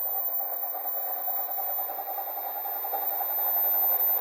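An electric motor runs in a free-energy setup of two pickup coils wired in series alongside a 500-watt lamp, giving a steady, even mid-pitched hum that stays constant throughout with no speech.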